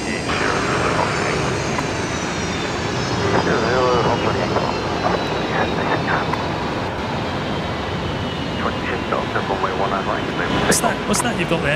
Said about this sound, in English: Qantas 1939 just about to rotate here